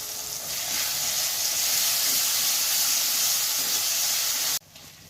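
Chopped tomato and ginger-garlic paste hit a hot pan with a loud, continuous hissing sizzle. It holds steady, then cuts off sharply to a quieter background near the end.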